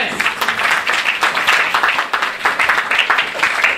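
A church congregation claps together in sustained applause, dense and lively throughout, with some voices mixed into the noise.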